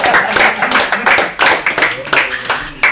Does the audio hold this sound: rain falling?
no